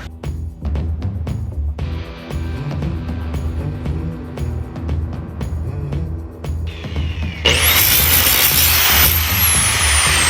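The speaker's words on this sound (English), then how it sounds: "this sander right here makes really quick work of this." Power sander working on metal, first heard as close scraping and knocking handling noises, then breaking into a loud harsh high whirring grind for the last few seconds.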